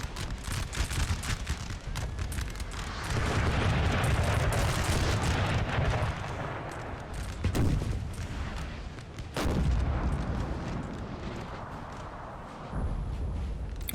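Artillery guns firing in the Napoleonic-era battle game Napoleon: Total War during a mountain assault, heavy rumbling booms and crackling volleys rolling continuously with a few sharper distant blasts.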